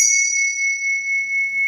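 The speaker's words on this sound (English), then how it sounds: "Next we have a bell, which has a witch on it, and it has a wonderful" A brass bell decorated with a witch is struck once and rings with a clear, sustained bright tone that slowly fades and wavers, heard alone and close.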